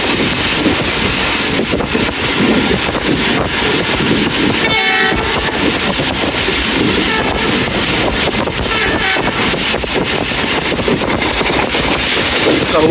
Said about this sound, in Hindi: तो दोस्तों मंगयाला से पास थ्रू हो रही है 40 टाउन जाफर एक्सप्रेस